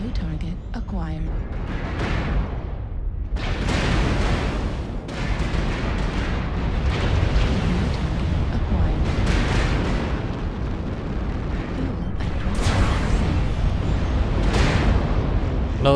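Heavy artillery booms in a video game, several loud blasts with rumbling tails spaced through a continuous roar of battle noise, with a voice talking over it.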